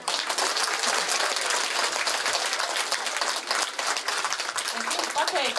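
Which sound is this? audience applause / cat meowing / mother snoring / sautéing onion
audience applause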